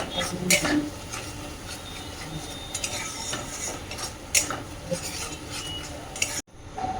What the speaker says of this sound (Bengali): এখন এটাকে ভালো করে কষে নেবো মশলা